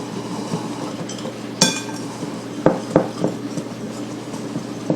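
Dry ingredients with cocoa powder and instant coffee being mixed in a bowl for keto dark chocolate cookies: a utensil scrapes steadily, with several sharp clinks against the bowl near the middle.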